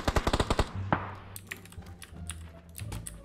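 Rapid bursts of automatic gunfire in a video game shooter, a quick string of close, sharp shots followed by a single shot and scattered fainter distant shots and clicks.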